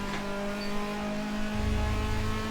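Engine note of a Toyota 86 race car fitted with a Lexus V6 sound in Assetto Corsa at Road America, a steady droning hum that deepens and strengthens as the car accelerates near the end.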